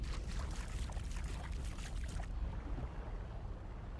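Swimming underwater in the survival video game Grounded gives a muffled, bubbly watery wash that churns steadily, then drops to a quieter, duller hum midway through, with no talk over it.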